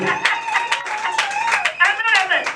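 A church congregation claps in acclamation during a worship service, a dense, rhythmic stream of claps mixed with singing or shouted voices, close and lively throughout.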